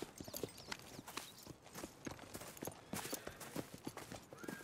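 Horse hooves clip-clop in a quick, irregular rhythm in the video game Red Dead Redemption 2, several close, sharp strikes playing continuously at low overall volume.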